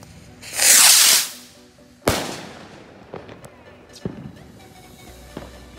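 Fourth of July fireworks go off outdoors: a loud crackling burst, then a sharp bang and several fainter scattered pops and booms at varying distances.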